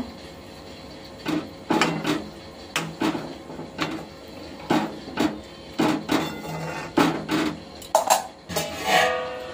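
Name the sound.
stirring curry with chopped coriander in a pot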